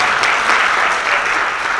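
An arangetram audience applauds a dancer in a dense, even wash of clapping that holds steady and close for the whole short stretch.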